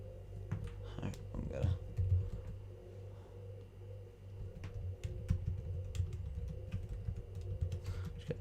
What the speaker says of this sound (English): Type some stuff on the Twitter about our stream.